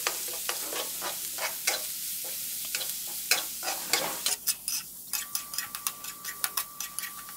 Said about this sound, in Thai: เราจะนำส่วนนี้ไปผัดกับน้ำมันหมูที่เราเจียวไว้นะครับ